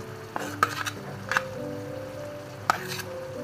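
Dates and cashews sizzling in a pan while a spoon stirs them, with a few sharp clinks of utensil against the pan over a quiet steady frying hiss.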